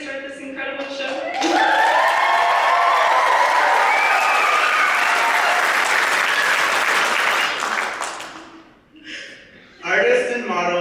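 Loud, sustained applause and cheering from an audience at a live youth wearable arts show in Ketchikan. The clapping swells for several seconds, then fades, with voices heard at the start and end.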